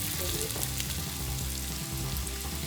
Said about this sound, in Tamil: பொரிக்கிறோம்